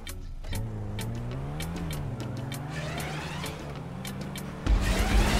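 A car engine revs and shifts through gears during a GTA 5 online transform race, a loud, steady drone rising and falling in pitch, then a sudden harsher burst near the end.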